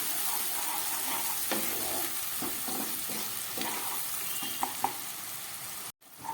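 Onions frying in a pan over medium heat for a mutton curry give a steady, close sizzle, with occasional stirring taps and scrapes before the sound briefly cuts out near the end.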